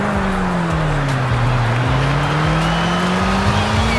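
A Koenigsegg Jesko hypercar drives in Forza Horizon 5, its engine a steady, loud drone that holds a constant pitch with slight rises and dips throughout, with no voices over it.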